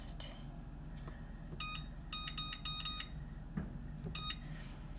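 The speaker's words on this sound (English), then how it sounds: "The timer is beeping." A kitchen timer beeps in rapid repeated bursts while paneer cheese is pressed, clusters of sharp electronic tones over a low background hum, fairly close.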